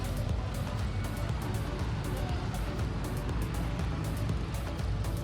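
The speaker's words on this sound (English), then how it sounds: "The daily traffic." Steady, dense traffic roar outside a city mall in Santa Rosa, the Philippines, with continuous vehicle rumble and passing cars close by, fairly loud and unbroken throughout.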